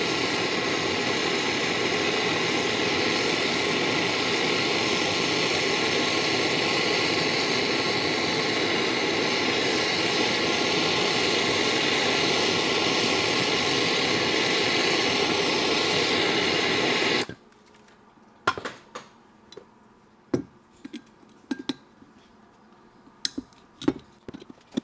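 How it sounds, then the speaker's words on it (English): Propane torch heating the aluminum bottom fasteners of a rifle rail: a steady, loud roaring hiss for about seventeen seconds, then it cuts off, leaving a few faint clicks and knocks. "use a propane torch to apply heat to the bottom fasteners on the rail"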